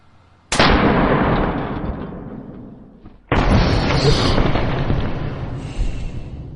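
Two sharp, powerful blasts from a compressed-air blaster firing pressure waves, each a sudden loud burst followed by a long hissing decay, a few seconds apart.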